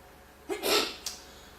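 A single sneeze from an adult in an interfaith forum hall, a sharp burst with a brief trailing catch of breath, heard close and alone with no talk over it.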